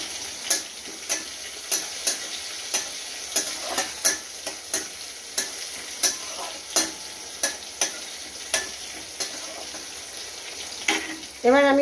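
Chopped green chili and plenty of garlic fry in an oil-filled pan for potol bhorta, a steady sizzle broken by regular sharp scraping taps of a spoon stirring, ending in a louder burst.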